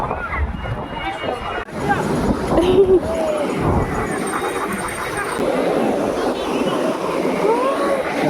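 Sea waves washing in at Puri beach with steady surf and wind noise, rising into a louder rush midway, while people chat and voices murmur nearby.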